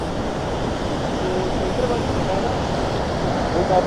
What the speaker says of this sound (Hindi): नहीं, पानी बहुत तेज़ है।